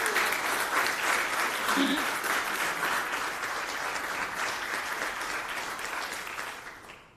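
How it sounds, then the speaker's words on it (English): Audience applause for four award winners at a university's academic year opening ceremony, a dense steady clapping that holds loud throughout and fades slightly at the end. "Now, maybe a final big applause for these 4 award winners."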